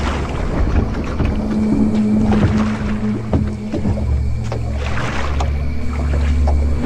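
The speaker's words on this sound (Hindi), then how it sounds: "तेज तेज चप्पू चलाने लगा और नाव आगे बढ़ने लगी।" A wooden boat moves along a river at night as oars dip and pull through the water in repeated splashing strokes over a steady low hum.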